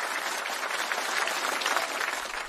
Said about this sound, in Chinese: 我们掌声送给前面八位暖场选手好不好？